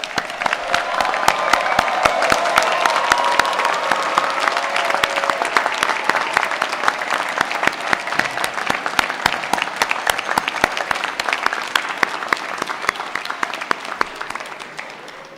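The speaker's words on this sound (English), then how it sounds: "Please can I ask you to join me in giving them a large round of applause." Big, full applause from a graduation ceremony crowd at Salford Business School honoring the winter graduates, many hands clapping loudly and steadily for about fifteen seconds, with a faint cheer or two mixed in.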